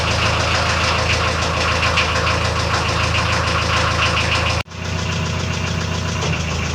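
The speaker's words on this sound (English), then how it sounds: "The usual lengthy wait for the glow plugs." A narrowboat diesel engine runs steadily with a heavy, knocking idle, then cuts abruptly midway before settling back into a lower, quieter running tone.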